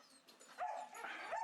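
Dogs in outdoor kennels at an animal shelter bark and whimper in a quiet, somewhat distant mix of yips and whines, with several overlapping calls.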